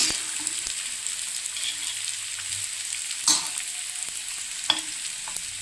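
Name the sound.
vadis frying on low gas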